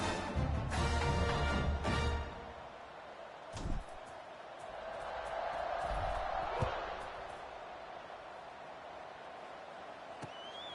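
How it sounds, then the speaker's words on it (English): Crowd buzz in a college football video game, Arkansas State vs South Alabama, fourth quarter after a score: a steady crowd murmur swells and recedes with a few thumps and brief cheers, partly mixed with other game sounds. "this crowd is buzzing after that last score"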